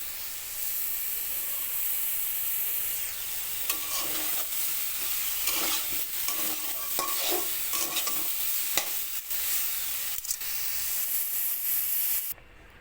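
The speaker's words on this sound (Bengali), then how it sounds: "সয়াবিন আলুটা এভাবে ভেজে নেব" Soybean chunks and potato pieces fry in a pan with a steady close sizzle and hiss, broken by bursts of stirring and scraping through the middle, with no voices.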